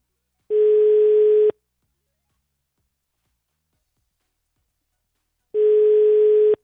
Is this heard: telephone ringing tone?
yes